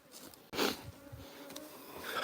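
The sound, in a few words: bees buzzing around beehives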